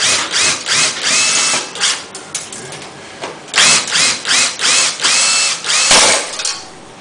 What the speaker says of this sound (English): Now when you're doing drilling